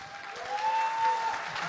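Applause from a convention panel audience at PonyCon AU 2014, a steady dense clatter of many hands with a faint tonal whine running through it.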